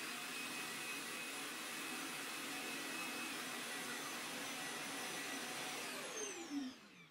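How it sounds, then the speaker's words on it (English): A loud, steady suction roar from a Roborock Q5+ robot vacuum's dock emptying the dustbin runs for several seconds, then its pitch sweeps downward as the motor winds down. "the vacuum returns to the dock, empties the dustbin, and starts charging for its next run."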